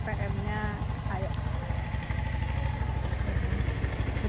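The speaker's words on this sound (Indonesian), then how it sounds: "Kita naik motor." A motorcycle engine runs steadily while riding toward a night market at Cikiwul, Bantar Gebang, Bekasi, a continuous low rumble close by with voices talking over it.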